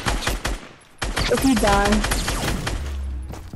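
Rapid bursts of gunfire from a Fortnite duo match, including a FAMAS rifle, crackle loudly and densely across the clip while players talk over the shots.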